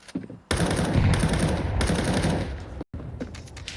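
Glock pistol gunfire in the Counter-Strike 2 game during a competitive match, loud rapid overlapping shots in a dense stream that breaks off briefly near the end and then resumes.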